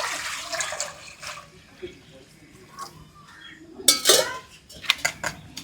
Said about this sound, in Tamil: தண்ணி ஊற்றுரும்.